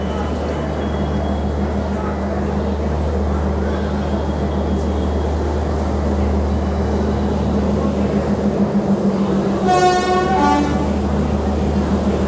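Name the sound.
train shunting at a station platform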